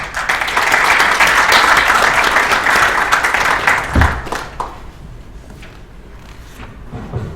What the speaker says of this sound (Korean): 큰 박수로 윤 교수님의 발표를 청하겠습니다